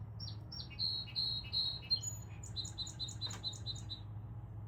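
Chirping comes from a backyard squirrel in Pittsburgh in a quick series of short, high, faint chirps at a distance, with a low steady hum behind it and no talk.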